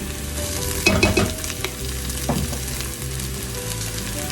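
Onions sizzle steadily in a pot for sausage, kale and white bean soup, with a few scraping stirs near the start and middle, close up and without talk.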